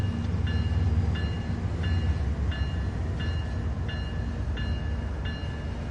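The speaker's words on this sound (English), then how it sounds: "The automatic brake applies brakes throughout the entire train." A freight train of boxcars in Train Sim World 3 rumbles steadily while the automatic brake is applied, with a low continuous drone and evenly spaced short high squeals repeating about every half second.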